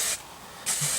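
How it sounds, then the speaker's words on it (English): Hairspray sprayed onto grey hair in two short, close hissing bursts separated by a brief pause, with no talking. "what I like to do is fluff it and spray it"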